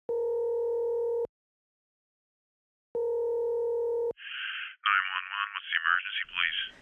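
In a cartoon, a telephone line plays a steady electronic tone during a call in two flat beeps with a silent gap between them, then a garbled, squeaky voice chatters over the line.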